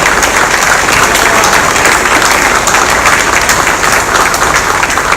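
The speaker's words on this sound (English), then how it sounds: "So if we could get a round of applause for all the combined Navy band." An audience gives loud, sustained applause for a combined Navy band after a performance, dense clapping filling the whole stretch with faint crowd noise.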